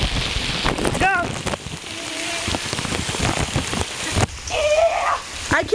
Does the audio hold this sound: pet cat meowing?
no